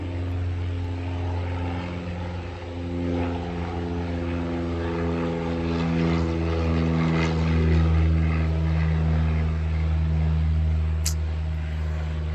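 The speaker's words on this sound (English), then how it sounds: "Airplane." A propeller airplane flies low overhead near a small-town airport, its engine drone steady and loud for the whole stretch with strong low harmonics and slight swells as it passes.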